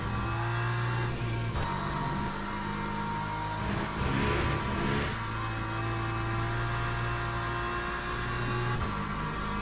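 A race car in Le Mans Ultimate rolls through a warm-up lap on cold tyres, its engine droning steadily at a held pitch with small shifts in revs and a brief swell mid-lap, close and continuous with no talking.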